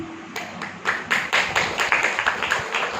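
Clapping from an audience at a spiritual talk: a short run of sharp, rhythmic hand claps, fairly close and loud, with no talking over it.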